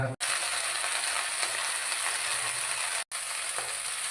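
A ginger, chilli and coriander paste fries in hot oil for a Bengali mutton and cauliflower dish, giving a loud, continuous sizzle with two brief breaks and no talk.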